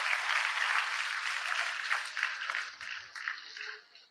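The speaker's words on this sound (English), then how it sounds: "Give a good round of applause," Applause from an audience at an afternoon orientation session, a steady dense wash of many hands clapping that gradually thins and fades toward the end.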